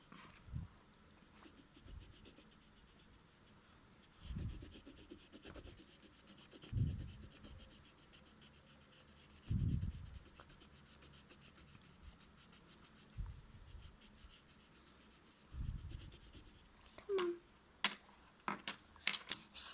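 A colored pencil fills in the wing of a pony drawing, producing quiet, scratchy strokes in irregular bursts over about twenty seconds, with faster, sharper scribbles near the end and no talking.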